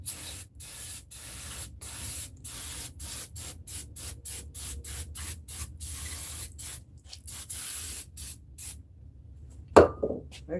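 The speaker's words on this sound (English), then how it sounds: "spray this off with that brake cleaner" Repeated short bursts of brake cleaner sprayed onto a part of a 2018 Ford Explorer 3.7 engine during timing chain and water pump work, a steady series of hissing blasts with brief gaps, close and loud.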